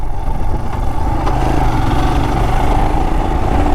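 A Royal Enfield Himalayan 411 motorcycle engine runs steadily at close range, a low, even thumping rumble with no talking over it.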